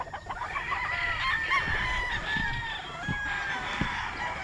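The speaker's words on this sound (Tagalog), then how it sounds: "So tara at pupuntahan natin yung ating mga napiling manok" Fighting cock stags and chickens at a large farm crow and cluck in a busy chorus, several birds calling over one another at close to moderate distance with steady farmyard background noise.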